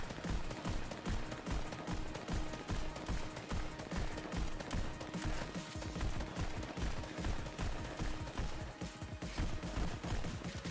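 Rapid pistol gunshots from dual-wielded handguns in the VR rhythm shooter Pistol Whip, firing in a dense, steady barrage over pulsing music with no talk.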